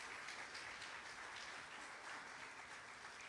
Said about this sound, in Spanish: Le damos un aplauso a nuestro Padre Celestial.